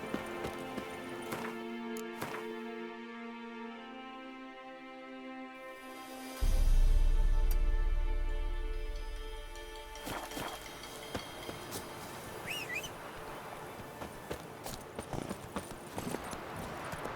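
Roach the horse in The Witcher 3: hooves clip-clop in a steady walking rhythm, fairly close. A low drone and musical tones sit beneath, and a deep rumble swells midway before the hoofbeats carry on.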